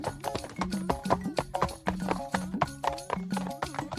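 Rapid cartoon hoofbeats of a donkey running fast, a steady galloping clip-clop rhythm repeating close and loud throughout, with no voices over it.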